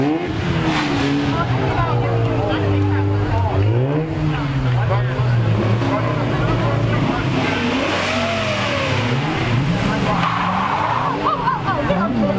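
Cars in a Labor Day parade, Mustangs and Camaros among them, roll past with engines revving and tires squealing, loud and close throughout, while people talk over the passing traffic.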